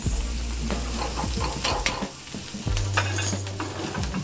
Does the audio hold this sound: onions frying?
yes